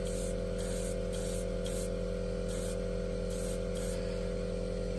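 Spray paint hisses onto a model F4U-1A aircraft in light coats, sounding as short bursts of a few seconds' hiss over a steady loud background hum.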